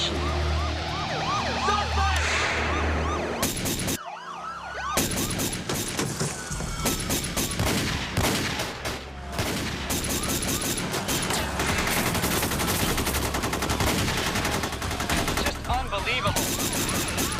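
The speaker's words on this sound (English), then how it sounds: "Shots are firing everywhere." Heavy gunfire in the North Hollywood bank shootout, with sustained automatic bursts and rapid shots layered over wailing police sirens, loud and nearly continuous apart from a brief silent gap.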